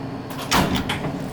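The door of a 1966 Montgomery traction service elevator slides open in a short, close whoosh and rumble, lasting about a second.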